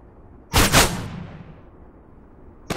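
Gunshots in the Call of Duty Mobile video game on the Hardhat map, two quick loud reports fired close together with a fading echoing tail, then a faint click at the end.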